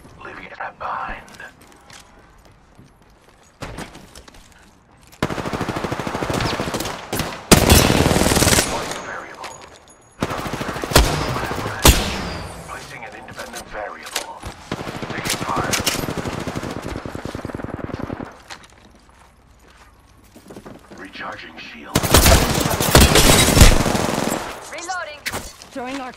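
Gunfire in the Apex Legends video game, repeated loud bursts of rapid automatic shots in several long volleys separated by quieter gaps, with game voice lines and a player talking in between.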